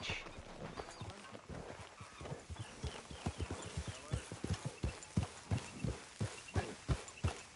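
Horse hooves on the move in the video game Red Dead Redemption 2, a rhythmic clip-clop of a riding gait that starts loose and settles into an even, steady beat, fairly close and clear.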